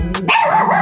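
Dogs bark indoors at night, a loud close bark followed by a higher whining yip, all within a brief moment and with no talking.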